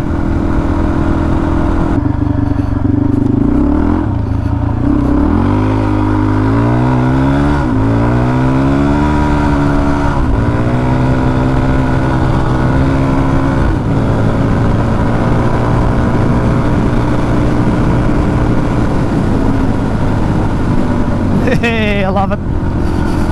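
A Suzuki DR-Z400 motorcycle engine with a motor still running in. It revs up through several gear changes while riding, rising and falling in pitch under constant wind roar, loud and close throughout.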